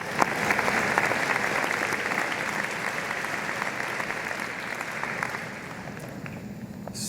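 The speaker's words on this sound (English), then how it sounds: "let's have a round of applause for them." Audience applause fills a large hall at a university School of Public Health commencement ceremony, a broad steady wash of many hands clapping that slowly thins toward the end.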